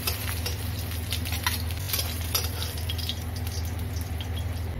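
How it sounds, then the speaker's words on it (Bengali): Fish shallow-frying lightly in hot oil for a Bengali ridge gourd and potato fish curry, giving a steady soft sizzle throughout with occasional light stirring clinks, close and even. "বেশি কড়া ভাজা করবো না, এরকম হালকা করেই ভেজে নেব।"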